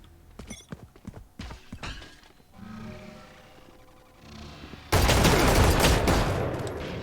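Loud, dense burst of gunfire in the tactical shooter game Valorant erupts near the end, after a quieter stretch of scattered game sounds and clicks.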